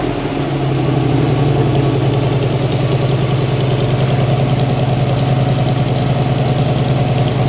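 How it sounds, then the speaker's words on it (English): A 1957 Chevrolet Corvette's 283 V8 engine idles steadily close by, its low, throbbing rumble holding an even rhythm with no one speaking. "Let me just let it idle for a second, Bill."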